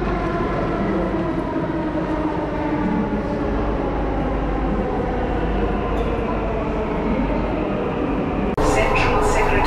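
Inside a Delhi metro railway station, a train runs with a continuous loud rumbling drone and a rising tonal whine, closing with a sharper burst of noise near the end.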